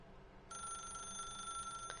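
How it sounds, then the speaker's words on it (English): Telephone ringing in a video game, starting half a second in with a bright electronic bell tone that holds steady and fairly faint over a low background hum, with no talking. "This phone could keep going and keep ringing and keep ringing."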